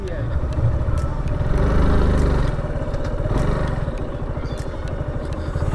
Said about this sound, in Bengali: আমাদের বাইক আমরা নিয়ে চলে আসছি